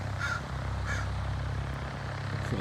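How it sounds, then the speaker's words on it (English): Crows caw twice in harsh bursts at medium distance over a steady low drone of aircraft taxiing at an airfield, with a faint third call near the end. "The crows are complaining about it."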